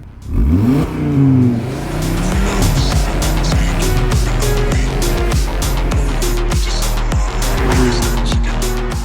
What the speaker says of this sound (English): This has the 5-cylinder turbocharged petrol engine producing 400 horsepower, and it just sounds mad.